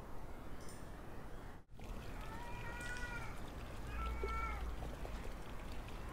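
A cat in the horror video game Erie gives two faint, drawn-out meows a second apart, heard over a low, hushed ambient hum.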